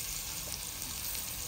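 Chicken fries in a large amount of oil, a dense, steady sizzle heard up close throughout.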